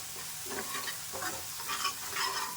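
Spices, turmeric, red chilli powder, fennel, coriander-cumin powder and salt with crushed chillies are stirred in a pan, a close scraping and soft sizzle that repeats in an uneven rhythm without a break.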